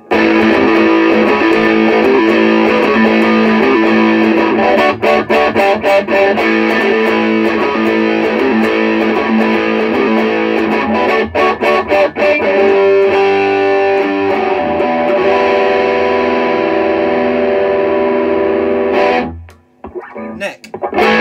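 A Les Paul electric guitar played with overdrive and reverb, loud, dense distorted chords and notes ringing continuously for most of the stretch, then cutting off abruptly near the end.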